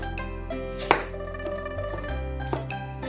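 A knife slices a peeled, scalded tomato into slices and strips on a board in a home kitchen, giving a few sharp, separate cuts over steady background music.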